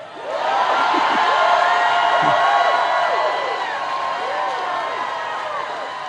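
Large rally crowd for Tim Walz in Asheville, North Carolina, a loud, sustained roar of cheering and whooping that swells early and holds steady throughout with no distinct voice above it.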